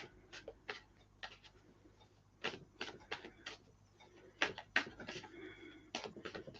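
Tarot cards being shuffled, with soft, quiet papery riffles and taps in irregular clusters, alone without speech.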